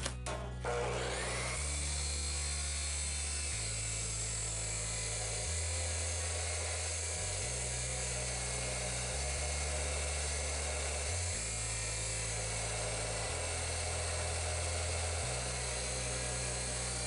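An abrasive cutoff saw grinds straight through hex steel stock in one continuous cut, a loud sustained shriek over a low motor drone, with no voices.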